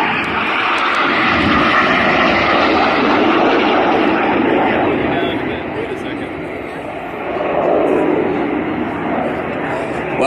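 Red Arrows display jets roaring overhead at an airshow, a loud sustained engine rumble that swells and dips as the formation rolls out, with a commentator talking over it.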